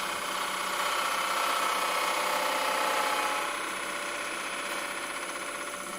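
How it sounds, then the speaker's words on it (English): A quarter-long-grind bowl gouge cuts into wood spinning on a lathe while the foot of a bowl is shaped, giving a steady, continuous whirring hiss with a faint humming tone throughout and no talking. "now I'm just going to go in with a bowl gouge and tie this down to the foot"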